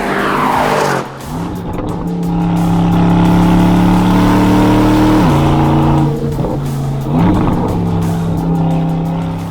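A 2021 Aston Martin DBX engine revs loudly and close, swelling into a deep, rich roar that holds, dips briefly, then surges again.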